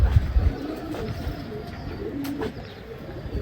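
Topi pigeons coo softly at close range, one low rounded call rolling into the next. Faint bird chirps and a light background hum sit underneath, with no talk over it.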